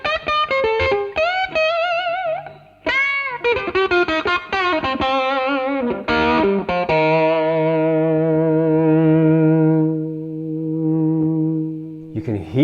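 An electric guitar through a Behringer Fuzz Bender fuzz pedal spits out snarly, staccato distorted notes and chords, then lets one thick fuzzy note sustain and slowly decay before a final pick attack.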